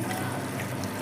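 Tamarind water pours in a brief steady trickling stream into a fish head curry, a continuous close liquid splash with no voices.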